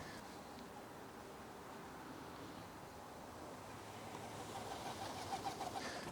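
Soft cooing of 20 to 25 young pigeons in a loft trap and faint fluttering amid steady broadband background noise, growing a little busier toward the end.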